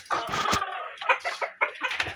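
Laying hens in brick nests cluck in a run of short, choppy bursts separated by brief pauses, near and fairly clear, with no voices.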